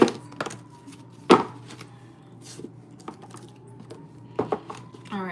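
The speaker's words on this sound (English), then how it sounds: "Shuffling up." Tarot cards shuffled by hand during a live reading, giving soft irregular riffling and tapping bursts with one sharper slap near the start and another toward the end, over a low steady room hum.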